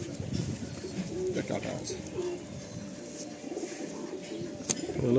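Madrasi pigeons cooing nearby, soft repeated coos over a continuous crowded background with people talking throughout.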